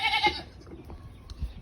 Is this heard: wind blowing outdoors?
no